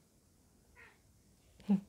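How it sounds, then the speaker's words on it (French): A house cat gives a couple of short, faint meows close by in a quiet room, a soft one followed by a slightly louder one. "mon chat vient s'inviter à la vidéo"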